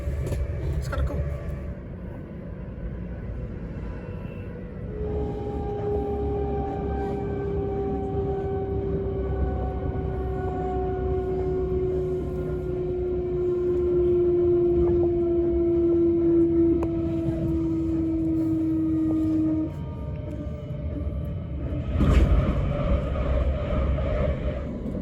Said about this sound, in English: as a fast LNER goes by